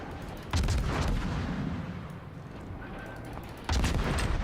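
Naval guns fire in the World of Warships game, heavy booming salvos landing at the start and again near the end over a constant roar of battle noise, loud and close.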